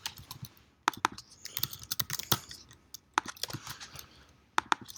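Someone types on a computer keyboard at a desk, producing close, crisp key clicks in quick irregular bursts separated by short pauses.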